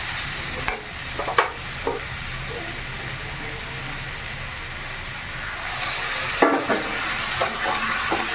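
Garlic and onion paste frying in a pan, stirred occasionally with a few scraping spoon strokes over a steady soft sizzle.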